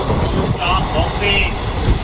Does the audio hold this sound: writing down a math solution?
no